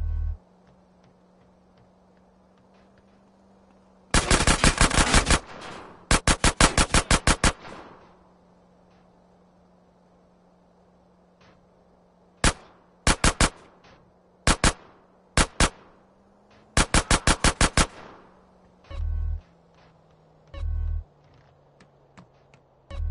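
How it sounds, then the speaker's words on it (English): Gunfire from a weapon in the video game GTA San Andreas: several sharp, rapid bursts of automatic shots and short volleys, separated by quiet gaps over a low steady hum, with a few deep thumps near the end. "A gun."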